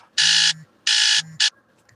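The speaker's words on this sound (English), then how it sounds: "That was my alarm clock to set the bear trap." An electronic alarm clock buzzes in loud, harsh bursts: two long blasts followed by a short one, nearby and alone.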